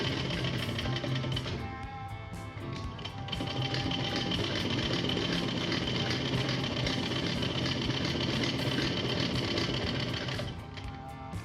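Sewing machine stitching shirt cuffs, a steady close rapid mechanical whirring and clatter that runs almost without a break before easing off near the end.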